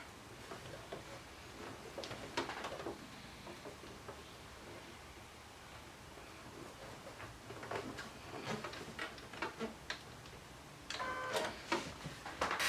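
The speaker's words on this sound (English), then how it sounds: "so you want to top stitch that just as we did before" A sewing machine topstitches elastic onto a swim top with a zigzag stitch, giving faint, quiet bursts of rapid mechanical ticking that come and go, louder near the end.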